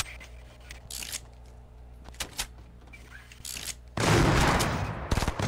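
Gunfire in Fortnite, a few scattered faint shots and clicks followed by a sudden loud, sustained burst of rapid fire near the end.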